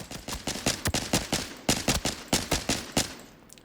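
Rapid bursts of gunfire from a burst-fire weapon in the shooter game Arena Breakout Infinite, sharp close shots grouped in quick clusters of three or four with brief pauses between bursts, no talk.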